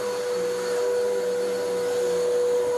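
Vacuum cleaner running steadily indoors, pre-vacuuming a house carpet full of dry soil, a constant close motor whine with airflow hiss throughout, no talk.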